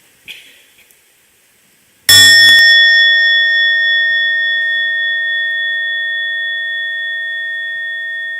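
A meditation bell struck once by the bell master at a mindfulness retreat, ringing out loud and close after a brief faint sound, its pure tones sustaining and slowly fading for several seconds with no talk.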